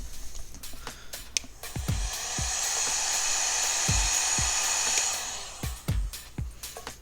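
A heat gun blows steadily on a foam Halo Infinite Master Chief helmet piece, giving a continuous whirring hiss for about three seconds. Sharp clicks and taps come from handling the work before and after.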